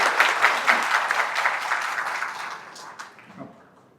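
Dense applause from an audience welcoming a speaker at a Thai political party launch event, loud and continuous at first, then thinning and fading out toward the end with a few last claps.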